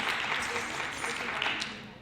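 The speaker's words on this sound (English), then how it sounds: "can you please clap for her again?" An audience applauds after a dance performance at an Indian cultural center event, a dense, continuous wash of clapping that holds steady for a couple of seconds with faint voices mixed in.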